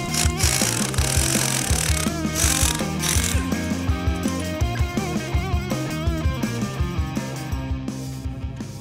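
A ratchet working loose the rear differential bolts on a 2010 Dodge Challenger SRT8, rapid rhythmic clicking repeated close and loud with metallic ringing throughout.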